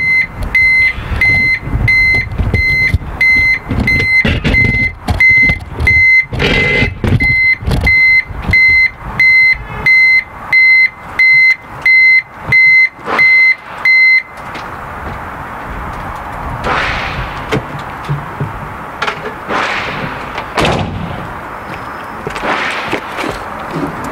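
A beeping warning bulb on a tractor sounds a rapid, regular string of loud electronic beeps over the running engine, then cuts out, leaving only engine rumble and scattered clatter.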